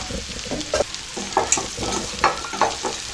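Taro root pieces being stirred and turned through masala in hot oil, giving a close, steady sizzle with repeated scraping strokes of the spatula.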